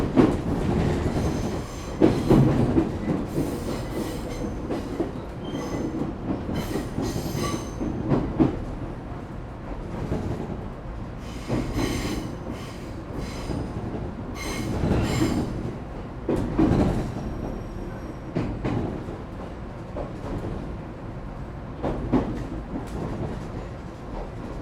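Echigo TOKImeki Railway ET127 series electric train with Toyo GTO-VVVF traction running between stations, a continuous rumbling ride with rhythmic wheel clacks over rail joints, occasional squeals and motor whine, heard from inside the car.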